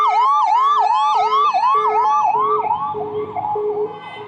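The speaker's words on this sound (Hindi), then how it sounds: "हालांकि एम्बुलेंस आ गई है" A small ambulance siren wails loud and close in traffic, a fast repeating rising-falling yelp over a steady tone that fades slightly toward the end.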